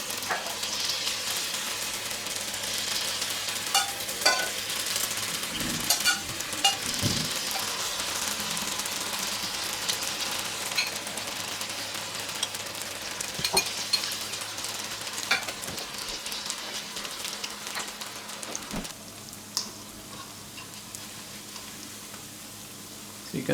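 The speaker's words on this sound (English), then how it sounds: "drop them into the oil. Be careful while dipping into the oil." Cauliflower Manchurian (gobi) pieces frying in hot oil, a steady dense sizzle running throughout with occasional stirring clinks and pops, no talking.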